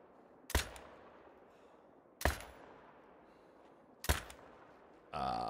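Three sharp .22 rifle shots ring out at even intervals in theHunter: Call of the Wild, each a loud crack with a brief decaying tail, followed by a burst of broader noise at the end; no one speaks.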